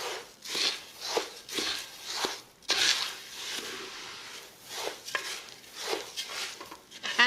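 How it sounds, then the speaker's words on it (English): Rice grains being stirred in hot oil in a pot to toast until golden for a large batch of Mexican rice, with repeated scraping strokes of a spoon in a steady rhythm, fairly close and with no talking. "Combine your rice into the oil, and we are going to be here until our rice is nice and golden."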